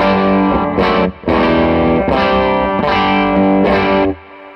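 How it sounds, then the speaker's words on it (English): Electric guitar driven through a Klon overdrive pedal on its own, gritty distorted chords ringing loud in several sustained bursts with short gaps between them. "Here's the clon on its own."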